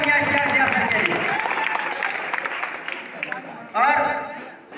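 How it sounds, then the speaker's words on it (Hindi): Sustained applause from an audience at an award ceremony honouring a Bihar exam topper with a gold medal, a steady wash of clapping that swells briefly again near the end. "एक बार जोरदार तालियां इश्तियाक ज़िया सर के लिए।"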